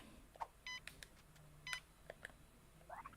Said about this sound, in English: But yeah, that's the alarm clock.